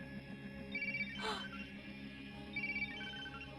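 A mobile phone rings in a tense midnight horror scene with a pizza delivery bag and bike nearby, two short bursts of a bright electronic ringtone over low background music, faint and mid-distance.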